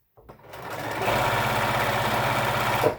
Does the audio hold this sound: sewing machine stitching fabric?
yes